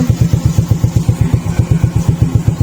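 A 2022 Suzuki Smash motorcycle engine with a charging fault putters close and loud at a steady idle, its exhaust beats pulsing evenly and rapidly, with no voices.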